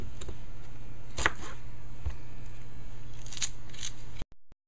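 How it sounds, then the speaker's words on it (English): Knife cutting through an onion for a stir fry, a few soft crisp chops spaced out over a faint steady background hum, close and fairly quiet. "I cut up an onion."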